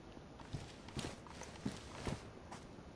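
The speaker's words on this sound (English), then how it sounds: "I can hear footsteps, but I think that's the Z's." Zombie footsteps in DayZ, a handful of faint, uneven thuds spaced about half a second apart, distant and quiet against a low background hiss.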